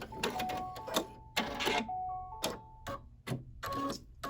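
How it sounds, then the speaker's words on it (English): An embroidery machine stitches fabric down onto a St. Patrick's Day coaster design, giving close, rapid mechanical clicking and whirring in short, uneven bursts with brief pauses between. "So now this is going to stitch down the fabric"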